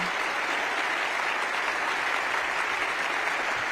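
Steady, dense applause from a large crowd, continuous clapping throughout without a break.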